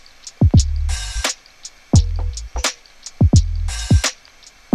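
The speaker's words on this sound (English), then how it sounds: "So like all the percussion together, yeah, sounds like this." A boom bap percussion loop from FL Studio plays with all its drums together: punchy low kicks, snappy hits and bright noisy bursts in a steady repeating groove, close and clear, no talking.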